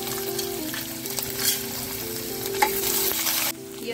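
Chopped garlic and ginger sizzle steadily in hot oil in a pan, a close, continuous loud crackling hiss with a few brief stirring scrapes and a sudden drop in level near the end.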